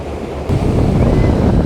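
A boat travels up the Mekong River with loud, steady wind buffeting and rushing water wash, the roar swelling sharply after a brief quieter start and holding constant.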